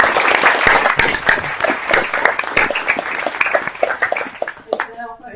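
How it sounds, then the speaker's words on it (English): An audience at a scientific workshop panel session applauds the speakers: a burst of many hands clapping in a dense, rattling wash that thins out and fades near the end. "give a round of applause for all the speakers that came before."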